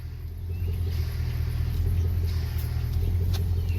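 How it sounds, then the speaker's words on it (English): A 2003 Chevrolet Suburban idles while its power steering fluid is pushed over the pump's pressure relief valve after an aftermarket cooler install, giving a steady low engine rumble with a faint whine on top and no talk. "you hear the oil kind of going over the pressure relief valve"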